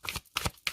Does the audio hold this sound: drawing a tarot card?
yes